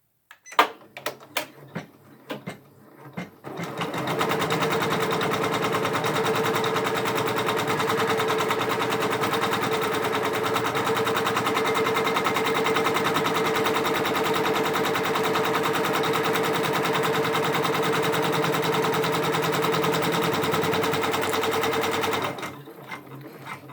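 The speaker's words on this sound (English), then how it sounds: "So now it's going to tack it down." Janome MB4 embroidery machine stitching a tack-down outline on fabric in the hoop, a fast rapid needle patter that runs steadily for about twenty seconds after a few scattered clicks, close and even, then stops.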